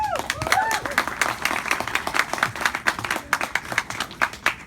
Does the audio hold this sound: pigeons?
no